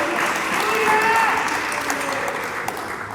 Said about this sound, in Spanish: Denle palmas a Dios del cielo.